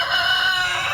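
A chicken crows in a short, loud, harmonic call close to the microphone, with no talking over it.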